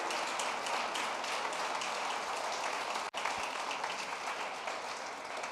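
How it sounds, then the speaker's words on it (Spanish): Congregation applause during a Spanish-language church sermon: dense, continuous clapping with a brief drop partway through, fairly distant and hissy. "Fuerte el aplauso al Señor."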